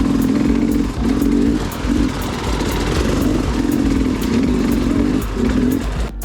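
A dirt bike engine chugs at low revs as an enduro rider crawls over rocky terrain, the motor pulsing unevenly with throttle blips, accompanied by clattering impacts from the wheels on the rocks.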